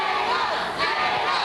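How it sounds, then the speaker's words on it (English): A Santa Fe arena crowd at a boxing match in a video game roars and cheers in a steady, dense wall of voices, loud and unbroken for the whole moment. "you can hear the Santa Fe crowd trying to get Jayla sparked up here"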